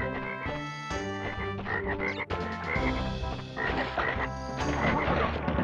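Frog croaking in the video game Crash Bandicoot 3 Warped, heard as steady croaks mixed into continuous, fairly loud game music for several seconds.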